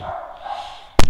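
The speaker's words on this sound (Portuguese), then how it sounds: "Meu cachorro tá latindo muito" A pet dog barks once, loud and close, in a short sharp burst indoors near a gaming setup after a stretch of low steady background hum.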